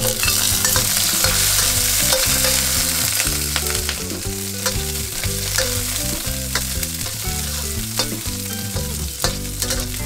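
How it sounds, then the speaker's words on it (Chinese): Dried chilies, scallion, ginger and garlic sizzle and crackle steadily in hot oil over medium heat, a loud close frying hiss layered with scraping stir strokes and background music throughout. "起锅倒一点底油， 中火把干辣椒和葱姜蒜炒出香味"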